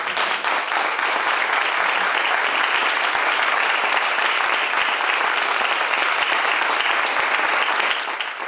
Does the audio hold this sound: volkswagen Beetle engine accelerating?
no